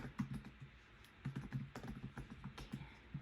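Fingers type on a computer keyboard in short quiet bursts of soft clicking keystrokes, close and faint in a quiet room, with no speech.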